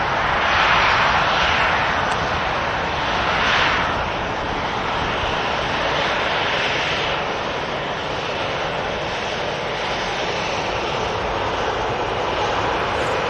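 An airliner taxiing out at Manchester Airport, a steady broad engine roar heard from a distance that holds level throughout with no talking.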